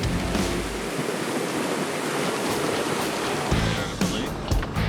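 Rushing creek water at night during an off-road crossing with a Jeep JKU and GWM Tank 500, a steady broadband wash of flowing water with a few low rumbles and bumps.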